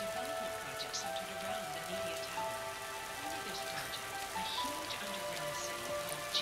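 Constant rainfall from the video game Raw Danger, a dense, unbroken patter heard up close, with faint voices talking underneath.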